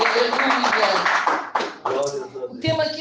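Church congregation clapping hands loudly in praise of Jesus, a fairly close, rapid patter of palms that drops out briefly and resumes while a preacher talks over it.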